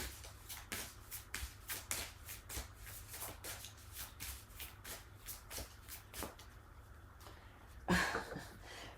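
A deck of cards is shuffled close by in a steady run of quick papery riffles and snaps, soft and evenly paced, ending in a slightly louder flurry.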